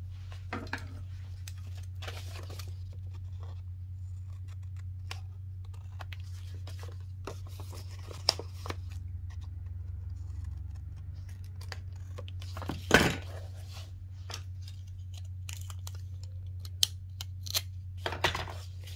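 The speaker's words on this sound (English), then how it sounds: "Trim those corners." Scissors trimming the corners of journal pages give a handful of short, crisp snips over a low steady hum, with faint paper rustles and handling clicks between the cuts.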